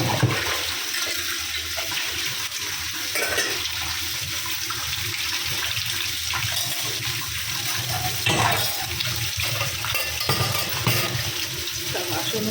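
Tap water running steadily while dishes are washed in a home kitchen, a continuous splashing stream with clinks of utensils and faint talk under it.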